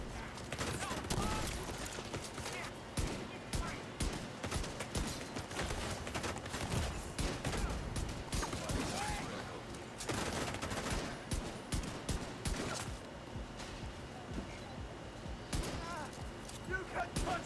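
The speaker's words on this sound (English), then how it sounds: "I hear a turret behind me too." Turret fire in The Division 2, a dense, continuous stream of overlapping gunshots and bursts filling the whole stretch, with talk running underneath.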